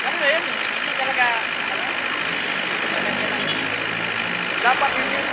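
A car that broke down on the road and is overheating sits with its engine running at idle, a steady, close hum throughout with faint voices in the background.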